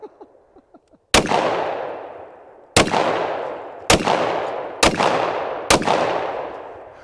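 Five loud, sharp gunshots from a Hi-Point JXP10 10mm pistol at a shooting range, fired at irregular intervals with ringing decay after each, preceded by a few faint clicks.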